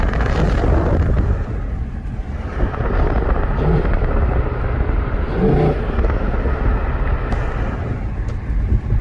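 Intake roar from the VK45DE engine of an Infiniti M45 on the move: a continuous low, throaty rumble with road and wind noise, plus a few brief surges as the throttle opens.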